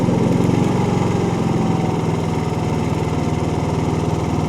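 A Predator 11,500 portable gasoline generator runs steadily and loudly with a buzzy, chugging rhythm, its pitch easing slightly lower partway through as it throttles down.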